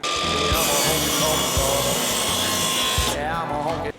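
A ProCraft PGS 20 cordless miter saw with dust extraction cuts through wood. Its loud motor whine holds steady through a single cut of about two and a half seconds, then drops away as the blade spins down.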